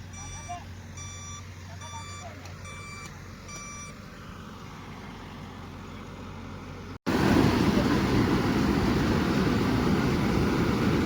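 A truck loading an excavator onto a trailer gives steady, evenly repeated reversing beeps over low engine rumble. After an abrupt cut, a loud, broad roar of machinery takes over.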